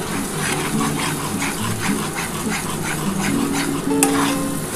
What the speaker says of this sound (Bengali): তোমরা কিন্তু মশলাটা ভালোভাবে কষাতে থাকবে